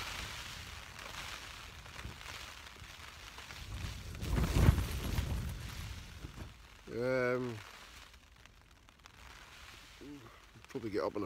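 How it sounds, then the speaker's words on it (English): Rain patters steadily on a tent pitched for a wild camp on the Great Gable summit, a dense hiss mixed with buffeting wind gusts, with a brief voice in the middle and a few faint sounds near the end. "It's raining."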